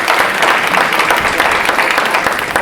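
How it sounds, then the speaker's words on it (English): An audience at an entrepreneur panel claps loudly for the facilitator, a dense, continuous burst of applause filling the whole moment. "I'd like to give a big round of applause for Ben facilitating"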